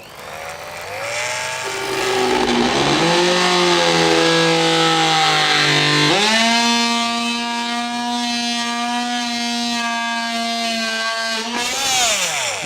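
A DeWalt DWE314K oscillating multi-tool runs with a loud, steady whine that climbs in pitch as it spins up, holds a strained tone through a plunge cut, then winds down at the end.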